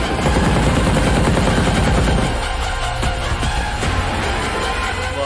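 Gunfire in a Hindi action film trailer, a loud dense burst of rapid shots over a thick rumbling score that thins out partway through, leaving a few sharper isolated cracks.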